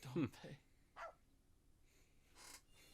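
A dog barks in a few quick bursts in a video game trailer shown during a Nintendo Switch 2 Direct, fairly close and loud at first, then fainter yaps amid a voice and light game sounds.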